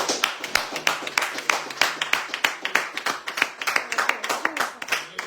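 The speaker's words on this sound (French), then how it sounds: "Applaudissements pour tous ces gens" A studio audience on a French radio bistro show claps in a loud, crisp flurry of individual hand strikes, sustained for about five seconds with no talking.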